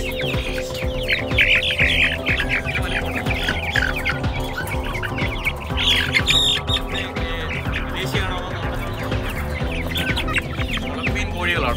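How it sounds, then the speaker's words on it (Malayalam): Brahma chickens at a pet and poultry shop, many birds squawking and clucking loudly and continuously, overlapping calls with a steady background hum and some voices. "ബ്രഹ്മ ഈ കോഴികളെ കണ്ടോ, ബ്രഹ്മ കോഴി അല്ലേ?"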